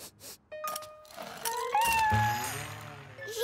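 A cartoon kitten meows several times in a French Caillou episode, with short high cries and rising, bending calls over background music and effects.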